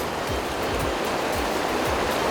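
A flooded mountain river rushes near a glacier in Tajikistan's Pamirs, giving a loud, continuous broadband roar of churning water with low surging pulses and no voices.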